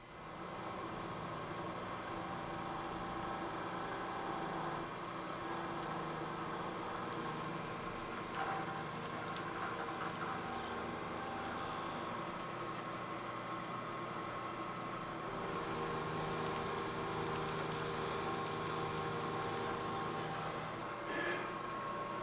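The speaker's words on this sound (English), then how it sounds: "we're going to start with a 1/2 inch end mill and just clear out the majority of material" A milling machine clearing out material with a 1/2 inch end mill, a steady humming motor drone with a faint, continuous whining cut, fairly even throughout and heard alone without talk.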